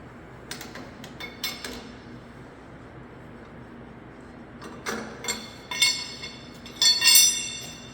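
A set of metal spanners clinks as they are handled, giving scattered sharp taps and rattles that grow denser and louder toward the end, close by with no talking.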